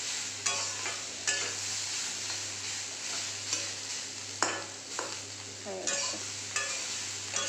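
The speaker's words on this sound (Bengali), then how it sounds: "জিরে দিয়ে দিয়েছি তেলে, হয়েও গেছে।" Cumin seeds frying in oil give a soft, steady sizzle, punctuated every second or so by the scrape and clink of stirring; a voice speaks briefly.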